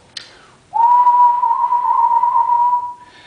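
A single sustained whistled note, clear and close, holds for about two seconds with a gentle, subtle vibrato wavering its pitch.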